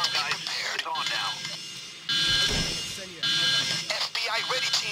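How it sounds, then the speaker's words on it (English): An electronic alarm sounds in the heist video game Payday, with bursts of loud ringing under voices that carry on throughout. "So that's the alarm, guys."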